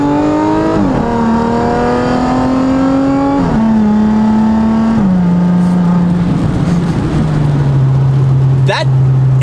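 A car accelerates hard up close, its loud engine climbing through the revs and dropping pitch at each gear shift across several gears, the drone staying strong throughout.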